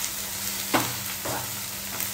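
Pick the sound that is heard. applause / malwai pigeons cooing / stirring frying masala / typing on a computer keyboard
stirring frying masala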